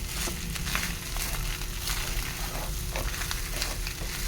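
Fried rice sizzles in a hot oiled pan while being stirred and turned from the bottom, a steady crackling hiss with scraping of the spatula, close and continuous without talk.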